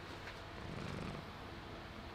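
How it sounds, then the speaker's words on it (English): A cat purrs steadily and very softly up close, a continuous low rumbling hum with no other sounds. "She's purring."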